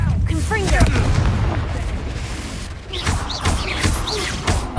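A Confringo fire spell blasts in Hogwarts Legacy, with deep rumbling booms and thuds rolling through a dense mix of combat sounds while voices cry out over the top.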